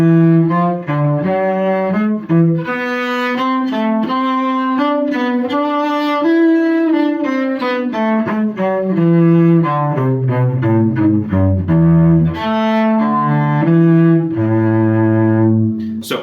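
A cello plays a Vivaldi Allegro passage from Suzuki Book 5, a continuous melodic line of bowed notes moving through the lower and middle register, close and clear with no talking.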